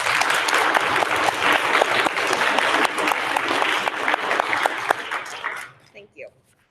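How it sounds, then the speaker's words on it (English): Loud audience applause at a sixth grade continuation ceremony, a dense crowd of clapping hands with some distinct individual claps that fades out near the end and leaves a few brief voices. "For one final applause, I invite everyone to put their hands together for both Mr. Poland and Mr. Roach"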